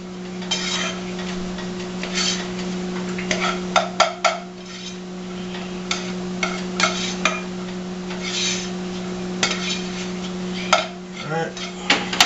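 A spoon stirs butter into rice in a pot, making irregular clinks and scrapes against the metal over a steady background hum.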